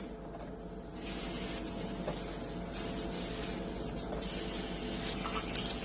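Onions cooking on a grill for a peach burger, giving a steady broadband sizzle that holds at an even level throughout, with no talking.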